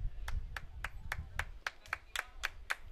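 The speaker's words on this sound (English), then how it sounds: "As you can hear the applause" Scattered hand claps from Monterrey fans at a men's college soccer match between TAMIU and Monterrey Tech, about ten sharp evenly spaced claps over a low background rumble.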